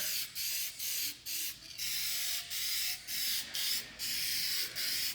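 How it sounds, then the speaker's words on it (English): Short hissing bursts of a silver aerosol spray paint can, about a dozen quick sprays in an uneven rhythm, close and fairly quiet with brief pauses between them. "So I'm going to get the spray in here, get the silver on there"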